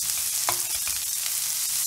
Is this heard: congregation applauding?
no